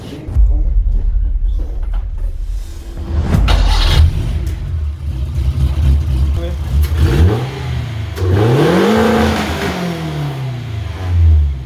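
A small engine sputters and revs in uneven bursts, rising and falling in pitch, with voices talking over it.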